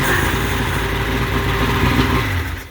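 An old boat motor runs steadily and fairly loud at close range, a constant rough mid-pitched engine drone with an even rhythm, dying away at the very end.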